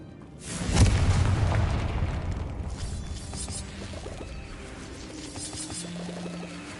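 A Confringo blasting spell in Hogwarts Legacy lands as a heavy boom, a sharp burst that swells and then trails off into rumbling debris.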